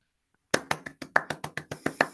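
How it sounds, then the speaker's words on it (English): Short burst of clapping from a webinar audience, about ten crisp, evenly spaced claps at close range, sounding like one or two people applauding rather than a crowd. "can we just give Nils a round of virtual or actual applause?"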